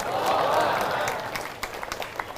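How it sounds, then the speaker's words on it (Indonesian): Audience clapping at an Islamic lecture on Quran memorization, a dense steady patter that swells early and then thins into scattered claps. "Tepuk tangan itu gunanya untuk menghilangkan ngantuk"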